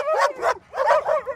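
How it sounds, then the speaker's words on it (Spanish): Several dogs bark and yip at a prison at night, loud and close, in three or four sharp, excited bursts with a short gap between them. "¡Maldición! ¡Los perros!"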